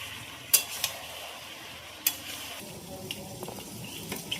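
Vegetables frying in a pan being stirred, soft sizzling under a few sharp spatula clacks against the metal and light scraping, close and fairly quiet.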